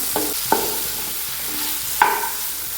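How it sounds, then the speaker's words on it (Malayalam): Curry ingredients with salt sauté on a very low flame for a fishless fish curry, a soft steady sizzle broken by a few sharp spoon taps and stirring scrapes against the pan, with no one talking. "ഏറ്റവും ചെറിയ ഫ്ലെയിമിലിട്ട് വേണം വഴറ്റാൻ"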